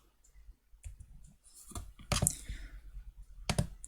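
Computer mouse clicks while working in FreeCAD, a scattering of faint, sharp clicks, a few louder close ones standing out, in an otherwise quiet room with no talking.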